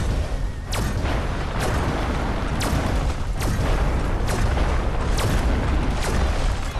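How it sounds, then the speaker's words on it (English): Missile explosions from the game Destroy All Humans, a series of about seven sharp booming blasts roughly once a second over a dense, continuous roar of game noise. "God, those damn missiles."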